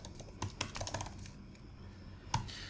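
Keys clatter on a computer keyboard as text is typed into the VS Code editor, a quick irregular burst of close, crisp clicks followed by a pause and one last sharp keystroke.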